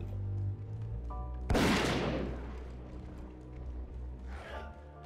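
A single sharp gunshot burst rings out in the video game Zeno Clash, rising over a steady musical drone and decaying slowly, with a fainter second blast near the end.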